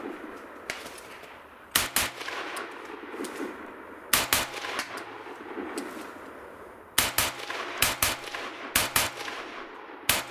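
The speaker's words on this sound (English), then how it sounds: "Shooting at a little teeny piece of steel out there." Shots from an AR-15 pistol fired outdoors at a small steel target, heard as sharp, loud reports in irregular bursts of one to three shots separated by quieter pauses.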